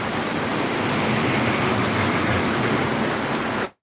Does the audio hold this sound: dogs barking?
no